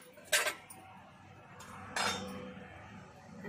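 A tava griddle pan set onto a wood-fired chulha stove gives two sharp metallic clanks about a second and a half apart, close and bright, with faint background crackle between them.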